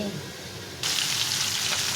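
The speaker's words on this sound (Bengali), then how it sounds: "এই যে মাছটা ভাজা হচ্ছে" Fish frying in a pan gives a close, continuous sizzle that turns suddenly louder and hissier partway through, steady to the end with no talking.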